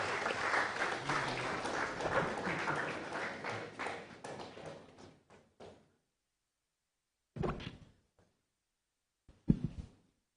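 An audience at a forestry department event on International Day of Forestry applauds a professor taking the podium, a full round of clapping that thins and stops after about six seconds, followed by a few isolated claps and knocks.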